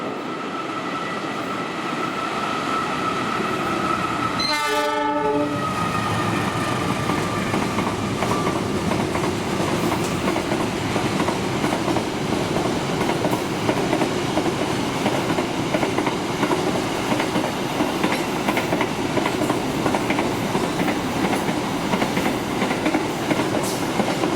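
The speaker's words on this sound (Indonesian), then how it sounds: "kereta api angkutan barang, yaitu kereta api Priuk Mas Kargo 2525" A freight train, the Priuk Mas Kargo 2525, rolls through Cakung station, a loud continuous rumble and wheel clatter filling the whole stretch, with a short tonal horn-like burst early on.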